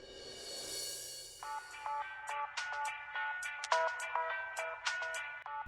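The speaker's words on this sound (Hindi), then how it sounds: "सुबह सुबह किसका फोन है?" A phone ringtone plays a bright, repeating electronic melody of short beeping notes, close and clear, after a brief soft hiss.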